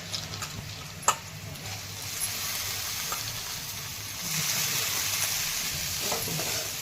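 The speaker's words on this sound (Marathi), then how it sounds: "हे असे तेलामध्ये छान असे परतून घ्यायचे" Sprouted horse gram sautéing in hot oil in a village-style kitchen, a steady crackling sizzle with occasional sharp spoon knocks against the pan as it is turned over, growing slightly louder partway through, with no one talking.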